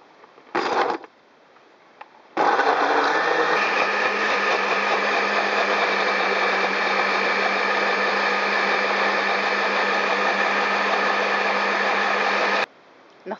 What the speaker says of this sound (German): all die Zutaten, die ich euch eben gezeigt habe, tue ich jetzt mal zusammen in den Mixer